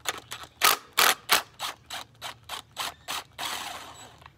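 A ratchet loosens the blade nut on a Husqvarna LGT2654 riding mower deck during a rebuild, about a dozen sharp, close clicking strokes in a steady rhythm, the last one dragging into a longer whir.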